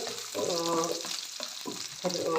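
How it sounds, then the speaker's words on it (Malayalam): Cashews and raisins frying in ghee in a pan for rava kesari, a steady close sizzle with bursts of stirring scrapes, no voices. "ഒരു ചുമന്ന് വരുന്നത് വരെ ഒന്ന് ബ്രൗൺ കളറാവുന്ന വരെ ഒന്ന് വറുത്തെടുക്കാം നമുക്ക്"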